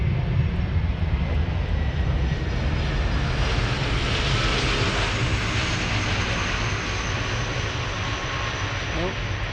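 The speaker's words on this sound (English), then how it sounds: "That was a nice wheelie that you don't see on all 747 landings" A Kalitta Air Boeing 747 landing, using only idle reverse, makes a loud, steady, broad engine roar that sustains throughout with little variation, close and dominant.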